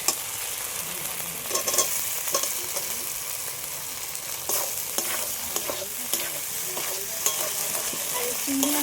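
Prawns coated in salt and turmeric stir-fry in a pan of well-cooked spice masala, giving a steady close sizzle with scraping stirs and clinks throughout, no talking.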